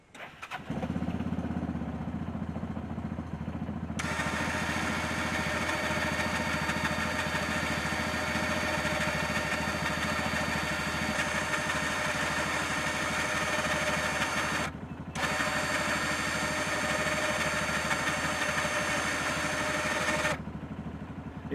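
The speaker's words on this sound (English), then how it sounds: "So we're going to go ahead and start the engine. So you're going to hear that running while Noah's winding it up." A small engine starts and runs steadily while a stuck winch is wound up, a close, loud droning idle that continues for about fifteen seconds with a short break partway through, then cuts off.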